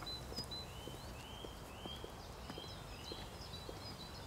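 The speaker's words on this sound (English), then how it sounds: "I hear the footsteps of people walking past me on the footpath" Footsteps of people passing along a footpath, including women's high-heeled shoes, tap faintly and irregularly against a steady outdoor hum, with birds chirping in the background.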